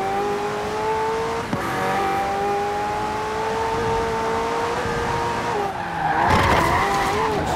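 A McLaren Senna driving in the racing game Forza Horizon 4, its engine holding a high, steady whine with slight pitch shifts, then tires squealing and the revs surging near the end.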